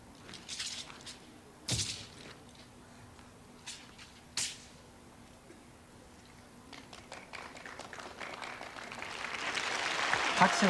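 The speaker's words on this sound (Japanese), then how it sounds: "拍手が起きました。" Applause from spectators at a 1987 Chinese wushu competition rises gradually toward the end, following quieter scattered thuds and movement sounds heard at a distance.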